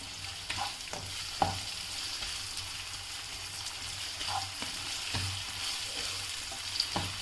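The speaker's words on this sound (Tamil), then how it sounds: "ஏன்னா தக்காளி கொஞ்சம் வதங்கின உடனே நம்ம சிக்கனை போட்டுப்போம்" Chicken frying with softened tomatoes in a pan for chicken spaghetti noodles, a steady close sizzle broken by repeated scraping stirs and small pops.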